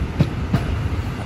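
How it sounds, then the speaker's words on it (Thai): Express train number 112 rolls past Khok Kathiam railway station in Lopburi, Thailand, with a steady low rumble of rail traffic and two faint rhythmic wheel clacks over the track. "ตอนนี้กำลังผ่านสถานีรถไฟโคกกระเทียม"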